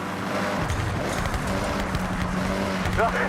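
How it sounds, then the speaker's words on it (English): A tuned car engine with an anti-lag turbo roars steadily at close range in a Forza racing game, with a brief tire squeal near the end. "You can hear the engine has more power. The anti-lag working hard to keep the turbo spooled up."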